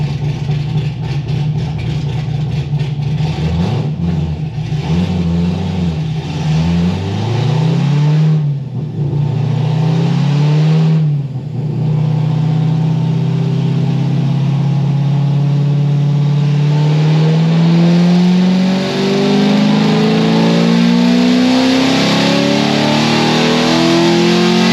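A 700 hp C6 Corvette Z06 with a titanium straight-piped exhaust revs loudly and close up, climbing through several throttle blips before settling into a long, steady, raspy high rev that slowly rises.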